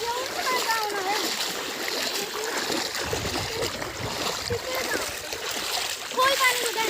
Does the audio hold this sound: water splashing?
yes